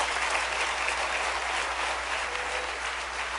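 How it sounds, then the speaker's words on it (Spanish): A church congregation applauds in a dense, steady wash of clapping that fills the whole stretch. It is loud, close and continuous, with no talk over it. "Denle un aplauso bien fuerte al Rey."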